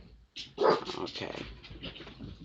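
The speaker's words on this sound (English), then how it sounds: "He's doing the right thing by barking." A pet dog barks and whimpers in a few short, loud bursts close by, with a person talking over and around the barks.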